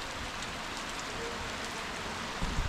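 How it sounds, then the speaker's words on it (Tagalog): Heavy rain pours steadily in a dense, even hiss, loud and close throughout with no talk, a few louder spatters near the end. "ang lakas ng ulan, no?"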